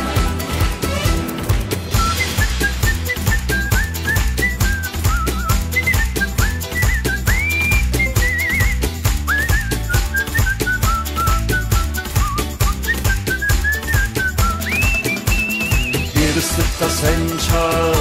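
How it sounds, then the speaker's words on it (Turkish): A melodic human whistle carries a tune over a steady rhythmic music backing, the whistled line wavering and sliding between notes. "bir ıslık da sen çal"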